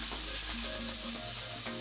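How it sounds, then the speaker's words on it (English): Steady, loud sizzling of pork frying in a pan, a continuous crackling hiss with no talking. "Hear that sizzle, smell it."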